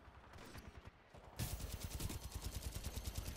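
Gunfire in the Titanfall shooter game: a few scattered, quieter shots, then a sudden loud run of rapid, evenly spaced automatic bursts that keeps going to the end.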